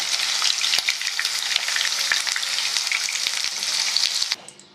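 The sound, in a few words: chicken 65 frying crisp in oil, being lifted out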